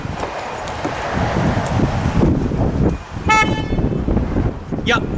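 A Skoda Enyaq iV electric car's horn gives a short honk and then a second brief toot, heard through steady wind buffeting and rumbling road noise.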